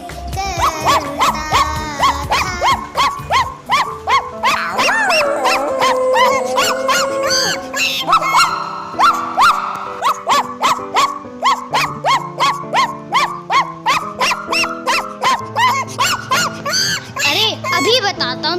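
A pack of dogs barks in rapid, repeated bursts, loud and close, with yelps and whimpers mixed in, in an animated educational movie featuring an elephant. Snarls and growls overlap in a dense, frantic rhythm with no pause.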